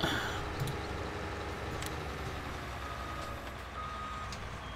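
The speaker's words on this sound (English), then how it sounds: "I don't want to sit there and listen to that beeping again." Reversing beeps from a vehicle in Farming Simulator 19, a repetitive high electronic beep over a loud steady engine drone that continues throughout, with no talk.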